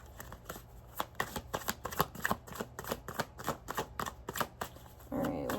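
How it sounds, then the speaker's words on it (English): Tarot cards being shuffled, a steady run of crisp, close riffling snaps and flicks repeating for several seconds, ending with a softer shuffle. "I'm going to pull all your cards before I start telling you what I'm seeing"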